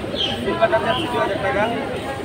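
Pigeons coo amid the bustle of a Hasnabad pigeon market, soft throaty calls mixed into close, continuous voices of people talking and bargaining.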